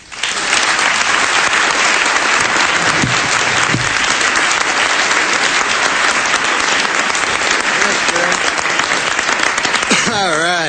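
A formal dinner audience with the President and First Lady present applauds loudly and continuously as Norm MacDonald is welcomed, a dense, sustained wash of clapping. The applause fades at the very end.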